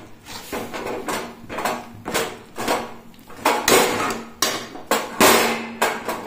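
Rice flour being mixed into water in a pot, a series of rhythmic knocking and scraping strokes of a utensil against the metal pot, close and fairly loud, with short pauses between bursts.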